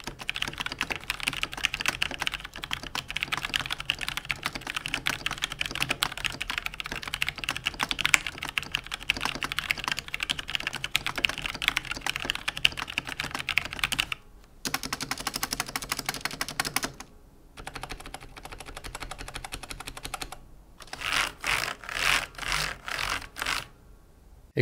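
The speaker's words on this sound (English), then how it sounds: "Here's a quick typing test so you know the sound of it." Steady, rapid clacking of a Logitech G613 wireless mechanical keyboard during a typing test, for a long stretch, with a few short pauses and bursts of faster keystrokes near the end; no voices.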